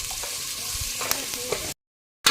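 Chopped capsicum and potatoes sizzle steadily in a hot pan while a utensil stirs and scrapes through them, close up, before the sound cuts off abruptly.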